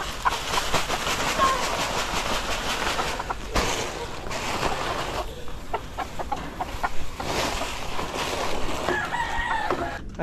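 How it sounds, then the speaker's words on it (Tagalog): Chickens in a coop bedded with fresh rice hulls keep up a dense, steady scratching and rustling, with clucks and a rooster crowing through it and occasional sharp knocks. "naghahalukay na yung mga manok"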